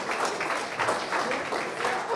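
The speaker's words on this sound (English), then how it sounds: "Please give her a round of applause." A live audience at a pub-style trivia event gives a round of applause, a sustained, moderately distant patter of many hands with slight swells, under faint room murmur.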